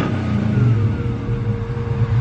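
A Monte Carlo with a brand new motor and turbo revs steadily, a loud close engine roar with a rising whine and no talk over it.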